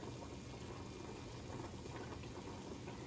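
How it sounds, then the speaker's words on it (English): Water with pasta boils on the stove in a faint, steady bubbling hiss that runs without a break and with no voices. "make sure we get all the boiling water off of it"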